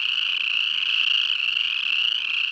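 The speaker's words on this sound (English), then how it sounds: "The boreal chorus frog is really common in Yellowstone" Boreal chorus frogs call in Yellowstone, a dense continuous trilling chorus of many small frogs, steady and fairly loud with no gaps and no voices.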